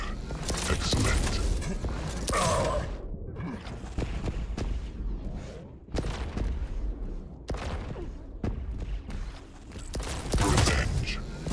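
Repeated railgun shots in Quake Champions Instagib, sharp cracking blasts mixed with game announcer voices and the busy noise of a fast arena match.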